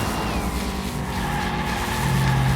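A toy car races along a track in Hot Wheels Unleashed, its engine droning loud and steady with rising whine and tire squeal, continuous throughout.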